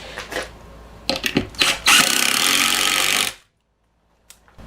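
Power drill driving a number 14 screw into plywood for a floating shelf: a few short clicks and bumps, then one loud continuous whirring run of over a second that cuts off abruptly to silence.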